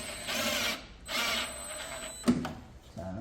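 Power drill whirring in two short bursts while driving screws during assembly of a drum washing machine, followed by a sharp metallic clack and some handling noise nearby.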